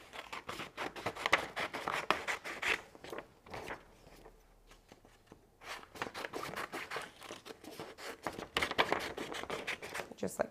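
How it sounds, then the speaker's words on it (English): A craft knife or scissors slices through glitter heat transfer vinyl, producing crisp scratchy crackling in quick bursts, with a brief quiet pause midway, close to the microphone as someone talks over it. "So all I need to do is cut away my little square here."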